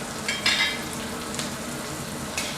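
Shrimp stir-fry in a hot pan, a continuous close sizzle with a few brighter bursts as the pieces are tossed and scraped, no talking.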